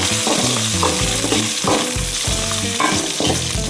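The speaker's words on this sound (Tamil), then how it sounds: "கருவேப்பிலை வெங்காயம் நல்லா வதக்கிடலாம்" Curry leaves and onion sautéing in a pan give a loud, steady sizzle with repeated stirring scrapes and clatters, close up and with no voices.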